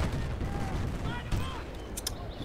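Grenade blasts and gunfire from the video game Battlefield Bad Company 2 boom and crackle through continuous battle noise, with a couple of sharp high bursts near the end.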